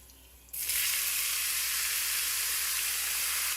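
Vegetables drop into hot coconut oil with cumin seeds after about half a second of quiet, and a loud, steady sizzle of frying carries on close by, with no voices.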